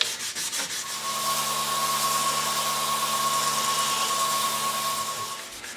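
Steady, continuous abrasive rubbing of sanding on a cork coffee tumbler, close and fairly loud, with a faint constant hum underneath and no voices.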